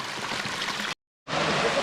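Thermal spring water flows out at its source in a steady, broad rushing wash, close by, with a brief cut to silence partway through.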